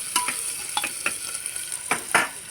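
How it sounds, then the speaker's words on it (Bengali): Onion with ginger-garlic paste fries in oil for a Bengali vegetable curry, with a constant hot sizzle broken by several distinct stirring scrapes, near and without talk. "আদা রসুনের পেস্টটাও এর মধ্যে দিয়ে দিলাম। কাঁচা গন্ধ চলে যাওয়া পর্যন্ত ভাজবো।"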